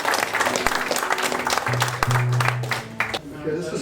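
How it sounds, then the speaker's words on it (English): An audience at a live Band Wagon music concert in Manley claps throughout, a dense, steady spatter of applause with a few voices and a low hum mixed in beneath it. "the biggest clap should go to all of you"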